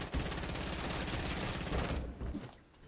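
Rapid gunfire in the video game Fortnite, a dense burst of repeated shots that rattles loudly for about two seconds before cutting off abruptly.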